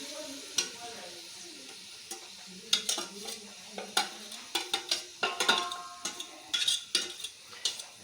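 Onion paste sizzles and fries in a pan over a wood-fired stove, with a steady hiss beneath repeated sharp scrapes and stirring clatters of a spoon against the metal.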